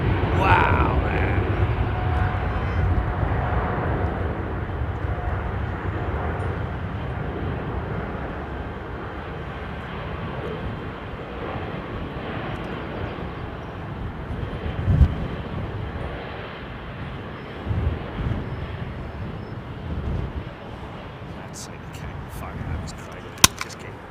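An airliner departs London Heathrow Airport with a loud sustained jet engine roar that slowly eases, while spectators talk and cheer close by.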